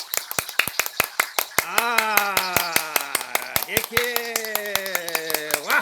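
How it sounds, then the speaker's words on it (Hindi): A class clapping fast together to welcome their guru: a brisk, steady run of sharp hand claps, with a voice speaking over part of the applause. "अब एक बार गुरुजी का और ताली से स्वागत करते, ठीक है।"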